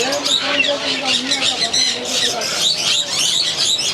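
A breeding pair of Alexandrine (pahari) parakeets at a busy bird market, with harsh, continuous squawks and chirps up close and loud, mixed with a dense background of other birds.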